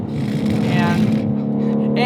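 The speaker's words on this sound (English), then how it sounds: "In this car, I have to rev match downshift like that" Shelby GT350R V8 blipping its throttle for a rev-matched downshift, a loud close engine rev that swells and falls over about two seconds, with a speaking voice running on top of it.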